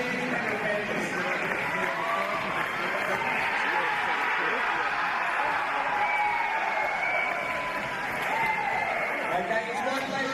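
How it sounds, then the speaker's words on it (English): A crowd at a Penrith Panthers versus Sydney Comets basketball grand final keeps up steady, dense applause and cheering for the whole stretch, with voices mixed in. "So a huge round of applause for the Sydney Comets and champions Penrith Panthers."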